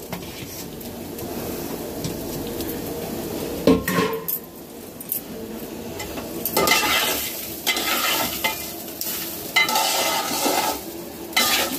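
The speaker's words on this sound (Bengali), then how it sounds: "ভালো করে এগুলোকে ভেজে নিতে হবে, ভাজার সময় দেখবেন ঝুরো ঝুরো হবে" Basmati rice fries in a pan while being stirred, producing continuous loud scraping and rattling over an ongoing sizzle, with bursts of heavier stirring and brief pauses, close and with no voices.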